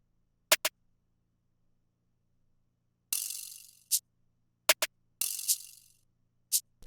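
Crisp percussion hits in a trap-style beat loop: isolated sharp ticks and clicks alternate with two longer hissing, shaker-like bursts, played alone with no talk and silence between.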